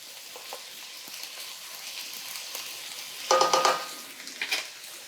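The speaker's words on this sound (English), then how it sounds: "And a few shakes of red pepper flakes. Stir that all around." Paprika and red pepper flakes stirred in a frying pan, a soft steady sizzle with a few louder scraping stirs near the end, close and without talk.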